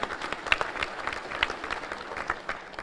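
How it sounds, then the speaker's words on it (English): Audience at a Chamber of Commerce luncheon applauding, a moderate wash of many hands clapping heard at some distance, steady and unbroken for a few seconds. "I'd just like to ask all of you to give yourselves a round of applause for coming through the storm."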